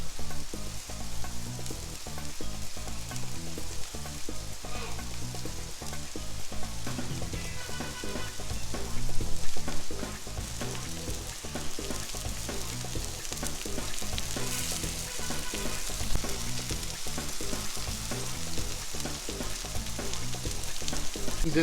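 Mushrooms fry loudly in a pan alongside rib eye steaks, a dense, continuous sizzle and crackle that holds steady throughout with occasional stirring clatter and no voices.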